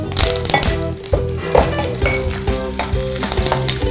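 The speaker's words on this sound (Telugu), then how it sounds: "ఆవాలు, జీలకర్ర, శనగపప్పు, మినపప్పు, ఎండుమిర్చి, పోపు దినుసులని వేసేసుకుంటాం" Mustard seeds, cumin, chana dal, urad dal, dried red chillies and curry leaves fry in hot oil for a tamarind rice tempering. A loud, continuous sizzle and crackle plays close up, with metallic clinks of a stirring spoon throughout.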